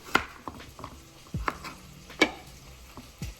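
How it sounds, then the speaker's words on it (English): A kitchen knife chops the ends off two carrots on a cutting board, giving a few sparse, fairly quiet knocks spaced about a second apart with soft handling noise between them. "So here I'm just using 2 carrots, just chopping off the ends and getting them prepared for the spring rolls."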